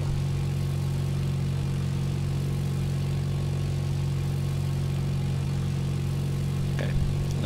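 Light aircraft engine droning steadily in the cockpit during a traffic pattern approach, a constant loud hum with layered harmonics and a slight throttle rise, no voices heard.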